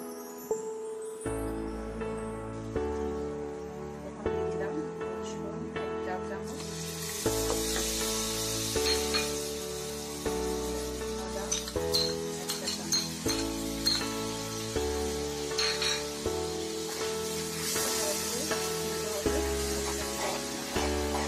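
Spices with garlic and ginger paste and salt fry for a lentil and mixed vegetable curry, giving a lively sizzle that swells partway through, with intermittent clinks of a spoon on the pan and background music.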